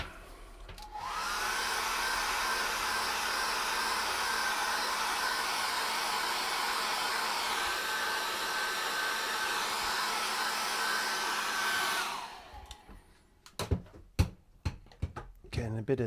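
Handheld hair dryer blowing steadily at close range over wet acrylic paint on a canvas, a constant whir that runs for about twelve seconds and then cuts off, leaving a few soft knocks and handling sounds.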